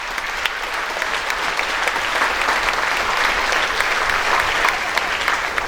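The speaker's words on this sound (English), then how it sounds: "Let's give them a round of applause." Sustained audience applause fills a reunion gathering, dense steady clapping that stays loud and even throughout, with scattered louder claps standing out.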